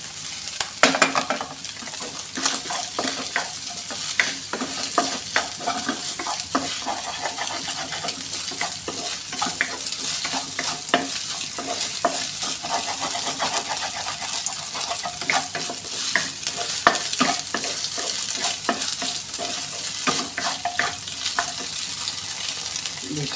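Fish fried rice (nasi goreng ikan) is stirred in a hot pan, giving a steady close sizzle with frequent scraping and clinking of the utensil against the pan throughout.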